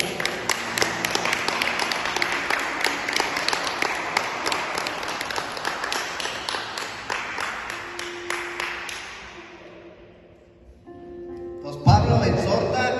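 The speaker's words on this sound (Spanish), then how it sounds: "Dale un aplauso al Señor." A church congregation bursts into sustained, dense clapping that gradually thins and fades out, followed by a few scattered sounds after a short lull.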